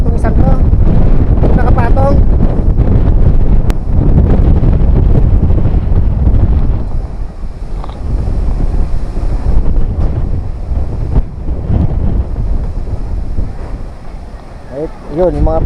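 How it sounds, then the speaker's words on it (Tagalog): Typhoon Kristine's strong wind blasts the microphone in a loud, sustained roar that eases slightly midway and then surges again, while a person talks intermittently through it. "Ang hangin, no?"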